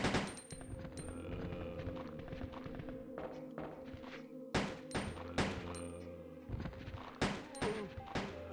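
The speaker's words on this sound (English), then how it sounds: "That's right, Ada. Go ahead and shoot him." Gunfire in the video game Resident Evil 2: sharp, loud shots crack out in irregular bursts and single reports, some rapid and overlapping, with brief gaps and lingering game ambience between them.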